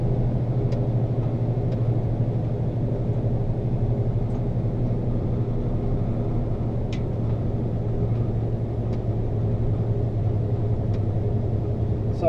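A logging truck climbs a hill on a long-haul trip, its engine holding a steady, loud low drone and rumble throughout with no break, no one talking.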